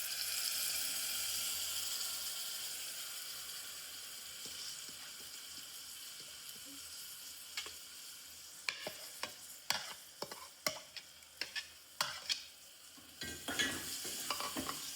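Soaked rice and lentils going into a hot tempering pot for a village-style spiced khichdi, a steady low sizzle with sharper crackling bursts and clinks near the end, close and with no voices.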